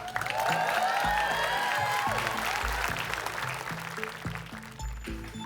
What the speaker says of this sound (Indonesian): boleh tepuk tangan untuk kalian